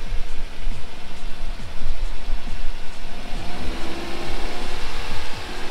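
A project car with no working brakes creeps forward as the clutch is let out, its engine droning and labouring at low revs with uneven pulses, close and fairly loud, with no one talking.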